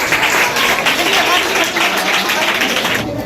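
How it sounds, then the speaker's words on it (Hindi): Loud audience clapping at a children's general knowledge competition prize ceremony, a continuous wash of hands close by with a voice speaking over it. "तालियां हो जानी चाहिए, तालियां होनी चाहिए"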